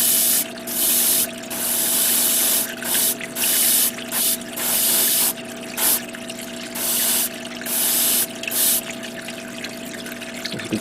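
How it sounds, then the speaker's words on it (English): Short bursts of aerosol primer in standard white-gray hiss onto parts of a Bandai HG ATM-09-ST Scopedog model kit, about a dozen close, loud sprays of one to two seconds each with brief gaps. "right now I am going to begin priming this. I'm going to do a standard white, gray primer."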